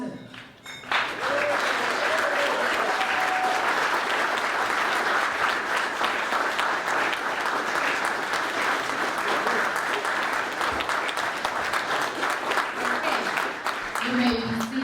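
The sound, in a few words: audience applauding at a debutante ball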